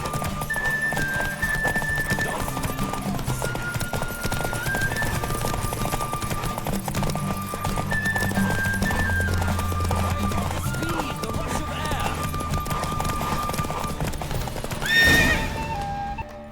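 Horse galloping in a race in The Witcher 3, hoofbeats clopping steadily beneath game music, with a loud close whinny near the end.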